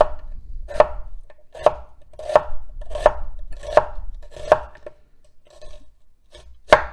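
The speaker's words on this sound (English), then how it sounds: "Having the knife blade up against my fingers and my thumb holding the onion in place, and working my way down the onion." Knife chopping through an onion on a cutting board, with about nine crisp, evenly spaced cuts that stay close and fairly loud, and no voices.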